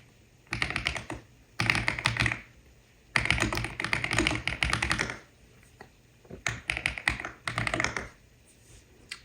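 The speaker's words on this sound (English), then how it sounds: "I'm going to go ahead and Control-C this and type buy." Keys on a computer keyboard tapped out in several quick bursts of close, crisp clicks separated by short pauses, with no talking.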